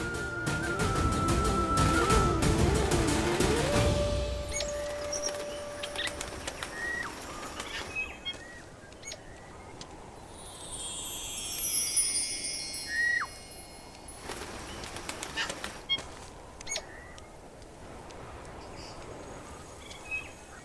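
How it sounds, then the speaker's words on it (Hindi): A migratory bird calls amid a rich outdoor wash of birdsong, with cooing and chirps over busy ambience; a loud tonal swell opens the scene before fading into scattered, moderately distant bird sounds. "ये तो कोई प्रवासी पक्षी है"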